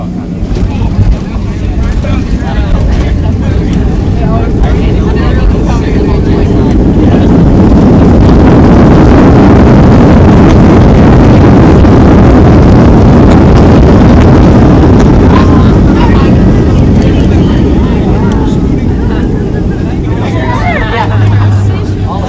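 A Southwest Airlines Boeing 737 landing at BWI, heard from inside the cabin: a steady, loud broadband roar and rumble of engines and airflow that swells in the middle as the jet comes down, with faint cabin voices underneath.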